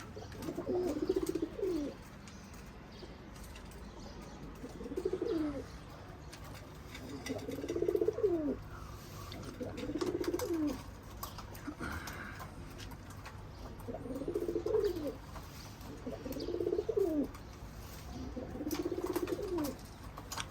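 Arab breed pigeons cooing on a balcony, repeated low throaty coos roughly every two to three seconds, moderately close over quiet background noise.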